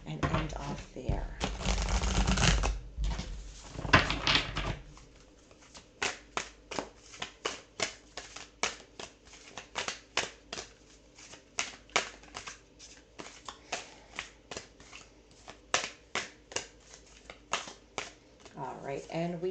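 Astro Oracle cards are shuffled by hand: after a few seconds of dense riffling comes a long run of quick, crisp card slaps and snaps in an uneven rhythm, close and fairly quiet.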